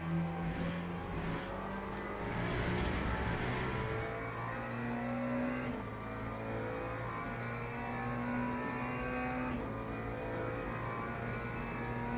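Race car engine in the Le Mans Ultimate racing game, a loud continuous drone with rising and falling revs through gear changes, steady and close throughout with no talk.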